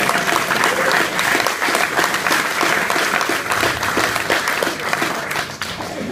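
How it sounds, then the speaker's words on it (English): An audience at a retirement party claps loudly and steadily for several seconds in a dense, continuous burst of applause that tapers off slightly near the end. "Another round of applause for Colin Baker, please."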